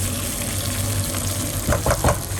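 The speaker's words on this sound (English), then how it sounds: "So now that we've added in our potatoes, I'm gonna give everything a nice mix" A pot of vegan eggplant stew with potatoes being stirred, a soft simmering hiss with a few brief scraping strokes of the spoon near the end, and no talking.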